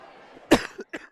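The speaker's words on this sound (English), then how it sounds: "Sorry again about the coughing." A sports commentator coughs hard at a high school boys and girls basketball broadcast, one loud burst followed by two shorter coughs, close to the microphone with faint background noise.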